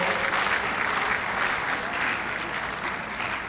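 A crowd applauds steadily, a dense wash of many hands clapping close by without letting up.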